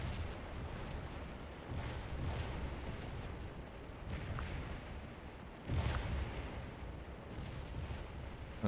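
Civil War cannon and rifle fire rumble continuously in the Antietam battle game Scourge of War, with a bigger boom near the six-second mark rising above the steady low-pitched battle din.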